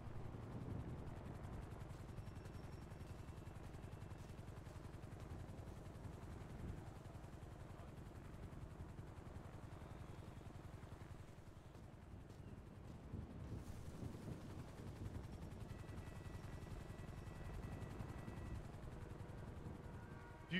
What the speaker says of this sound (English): Do you think that helicopter is gonna hate that we're loading methamphetamine into this stolen car?